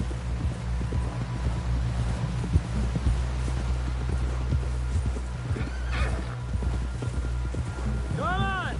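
A horse gallops with rapid clip-clop hooves and a loud whinny near the end in a video game scene, steady hoofbeats under background ambience and occasional voices.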